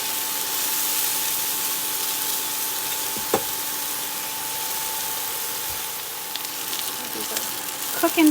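Garlic and onions fry in a pan for a vegan pot pie, giving a loud, steady sizzle with a faint constant hum under it, broken by a few light clicks and scrapes near the end.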